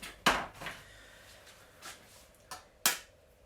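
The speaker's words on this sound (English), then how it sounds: "I'm just going to crack my egg into a little well in my flour" An egg cracked into a well of flour while making fettuccine pasta, heard as a few sharp, close taps and cracks in a quiet kitchen.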